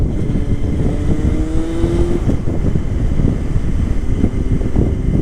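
A 1998 Honda CBR600F3 motorcycle engine hums smoothly and continuously on a test ride, loud and close, with a steady rush of wind noise over the microphone throughout.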